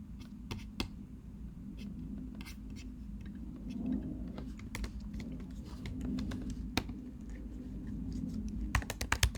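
Quiet, close keystrokes on a computer keyboard come in irregular bursts over a low steady room hum, ending with a quicker flurry of taps.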